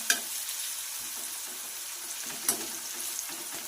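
Green chillies frying in oil with salt and turmeric, a steady close sizzle with two sharp spatula clinks, one at the start and one midway.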